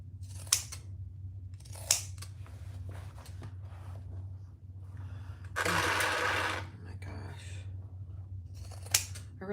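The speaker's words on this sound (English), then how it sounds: "I am going to use my pinking shears" Pinking shears cut the corners of a fabric piece in a few sharp, close snips. One longer rasping cut runs through the middle, all over a low steady background hum.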